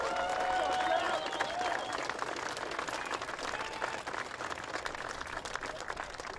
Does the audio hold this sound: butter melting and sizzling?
no